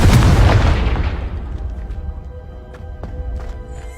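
A Confringo blasting spell in Hogwarts Legacy detonates with one loud, close, booming explosion. A long rumbling decay follows, with faint debris clatters and small pops as it fades.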